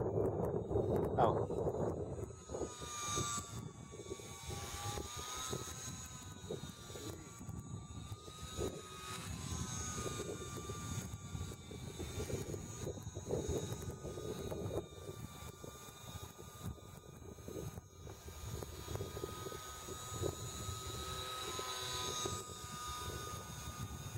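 A small E-flite UMX Carbon Cub RC model airplane flying overhead, its thin electric motor whine rising and falling in pitch as it passes, under steady wind noise, with people chatting nearby.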